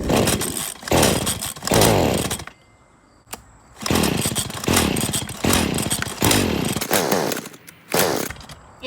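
A Stihl FS40 string trimmer engine with a fired spark plug sputters and revs in several loud bursts, briefly catching then dying, with a short quiet gap between attempts.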